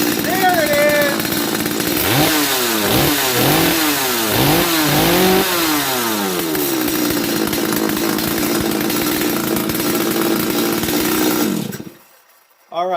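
A Stihl MS250 chainsaw with loose muffler bolts, running loud and close and revved up and down in repeated surges before it settles to a steady high drone, then cuts off near the end.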